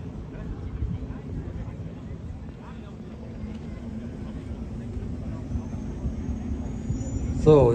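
De Havilland Beaver propeller plane flying slowly at a warbird airshow in Oberhausen, a faint distant droning rumble steady in the background under wind and crowd noise, swelling slightly near the end.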